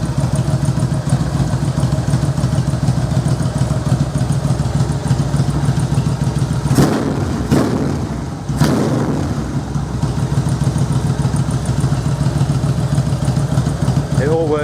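An old Bulldog tractor engine with its intake pipe and valve removed runs steadily at idle, loud and close with an even low thump, and a few sharp clanks break in partway through.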